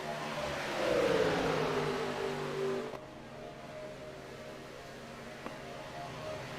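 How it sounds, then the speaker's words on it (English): NASCAR Gen 4 stock cars in iRacing roar down the front stretch. A rising engine whine swells near the start, then falls away into a lower, steady drone of distant engines, fairly faint throughout. "Listen to those cars roar down through the front stretch"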